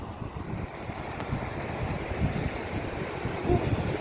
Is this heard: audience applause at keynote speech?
no